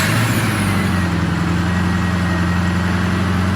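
A Subaru Forester engine idling steadily in neutral, a close, loud, even low rumble with a constant hum and no break, no voices over it.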